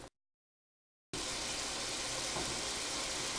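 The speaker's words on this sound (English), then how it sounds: "while that meat sizzles away and gets nice and thick" After a brief silence, ground meat sizzles in a hot non-stick pan, a steady broadband hissing and crackling, constant and moderately loud.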